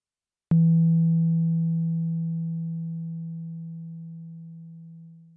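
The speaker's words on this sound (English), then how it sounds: "For the sake of listening, this is the dry sine" A single dry sine-wave pluck on a Novation Peak synthesizer, struck once with a sharp onset and then held as a pure, low tone that fades slowly and evenly over several seconds, with no reverb and nothing else sounding.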